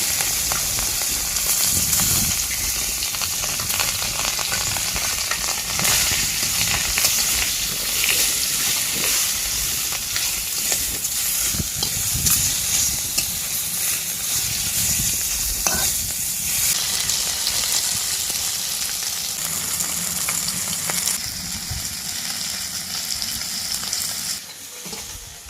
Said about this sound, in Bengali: তেল গরম হয়ে গেছে, এক এক মাছগুলো দিয়ে দেবো।